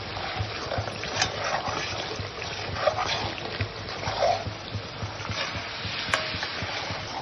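Water poured into a spice paste frying in oil in a kadai gives a steady broadband sizzle and bubbling with scattered small clinks, loud and continuous throughout.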